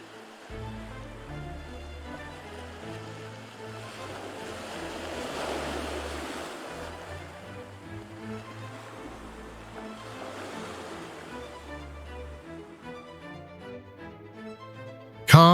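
Mediterranean waves wash against black cliff rock below Manarola, a steady surf that swells into two broad surges, heard at a moderate distance with no voices.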